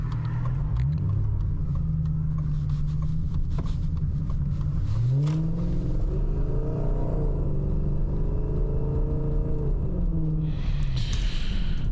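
A 1990s BMW E38 750i V12 luxury sedan makes a U-turn, its engine giving a steady, smooth low rumble with gentle rises in pitch as it turns, heard from inside the car throughout.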